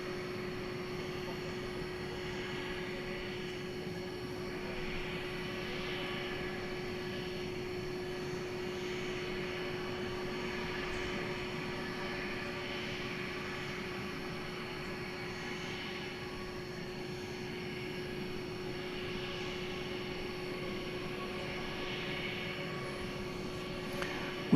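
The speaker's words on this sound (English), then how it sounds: "It's an Airbus A321." An Airbus A321 jet at DFW Airport at night produces a faint, distant, steady engine hum that drones on evenly for the whole stretch.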